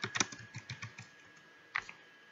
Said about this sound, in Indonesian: kalian bisa ketik Google Form di Google